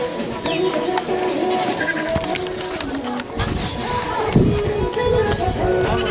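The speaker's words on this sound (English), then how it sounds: "Oh, that's a baby goat." Baby goat bleating outdoors on rural land in Gambia, a few thin calls mixed into busy ambient noise with shuffling and scattered knocks, fairly close.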